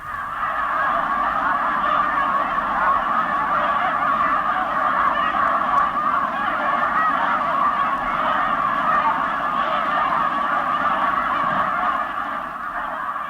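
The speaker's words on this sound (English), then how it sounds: "Can you hear the snow geese coming?" A large flock of snow geese honks continuously in a dense, overlapping chorus, loud and sustained without pause.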